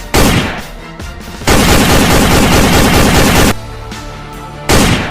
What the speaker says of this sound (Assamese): হঠাৎ বন্দুক গৰজি উঠিল।